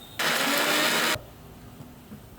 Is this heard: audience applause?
no